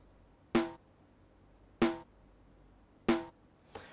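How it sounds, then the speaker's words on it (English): Electronic snare drum sample D125 from Logic Pro, struck three times at an even, moderate pace with a fourth fainter hit at the end; each hit is a short, bright, crisp crack with a brief tail, heard alone. "snares, electronic snares,"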